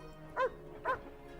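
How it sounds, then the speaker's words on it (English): A dog in the Dreamfall: Chapters video game gives two short barks about half a second apart, faint and somewhat distant against a quiet background hum. "That was a dog."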